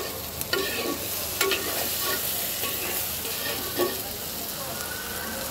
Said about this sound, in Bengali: এবার মশলার সাথে আলু আর বেগুনটাকে খুব সুন্দর করে কয়েক মিনিট ভাজা ভাজা করে নেব